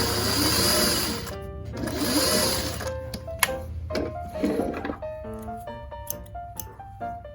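Sewing machine stitching up along the edge of zipper teeth, a steady close whirring run that pauses and restarts, broken at the end by short bursts and a few clicks.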